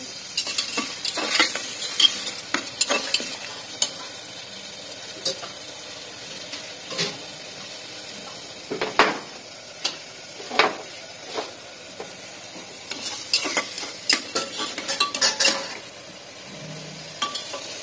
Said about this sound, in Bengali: পেঁয়াজটা ভালো করে একটু ভাজে নেবেন। পেঁয়াজটা তাড়াতাড়ি গলার জন্য আমি এখানে লবণ দিলাম।